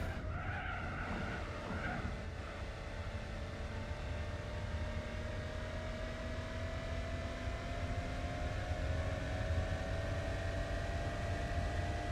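A race car laps the Nürburgring in Gran Turismo 4 during a 1000-mile endurance event, its engine holding a steady, loud drone with faint tire hiss throughout, and no one speaking.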